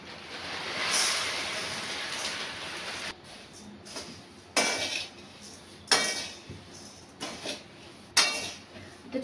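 Chivda being dry-roasted in a pan at home, with repeated sharp scrapes and clinks of a metal spatula against the pan over a steady background hiss, loud bursts recurring irregularly.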